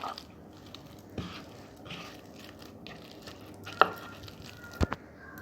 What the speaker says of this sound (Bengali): এবার সেইগুলোকে ম্যাশড করে নেব।